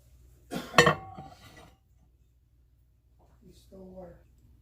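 Metal spoon stirring milk and lemon juice in a glass, a brief cluster of clinks and scrapes near the start, close and fairly clear, followed by quiet and a short spoken phrase.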